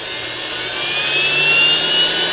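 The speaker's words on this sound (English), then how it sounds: "I'm starting to hear the motor spin" A commercial vacuum cleaner motor spins up on a bench power supply during a short-circuit test, a steady whining hum with a rising high tone that grows slightly louder, heard alone.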